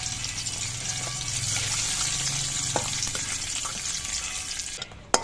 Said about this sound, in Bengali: এবার তেলের মধ্যে দিয়ে দিচ্ছি দুটো তেজপাতা, 4টে শুকনো লঙ্কা